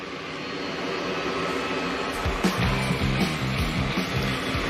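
NASCAR Xfinity stock car engines at Darlington fire up together for the Toyota 200, a sudden loud rumbling roar with revving pulses rising out of a steady crowd and ambient wash.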